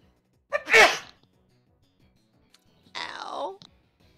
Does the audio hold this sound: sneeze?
yes